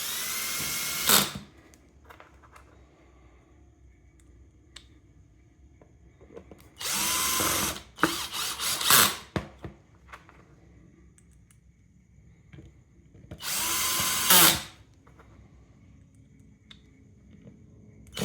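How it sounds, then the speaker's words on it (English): Power drill driving screws to fasten the lid onto a Lumex motor controller, heard in three short, loud whirring bursts separated by quiet pauses. "The last step is screwing the lid back on top of the controller."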